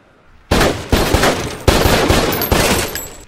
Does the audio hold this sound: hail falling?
no